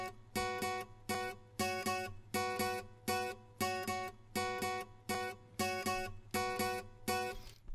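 High acoustic guitar part from a layered song mix, playing a bright, rhythmic pattern of short repeated strummed figures in a steady pulse, clean and fairly quiet with no voices.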